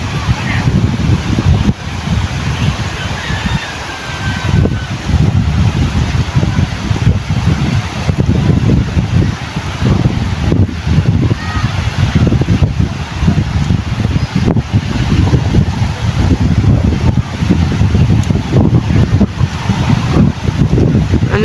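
Strong wind buffets the microphone at the seashore where two outrigger boats head out, a continuous low roar with gusts and likely surf beneath, while people talk over it.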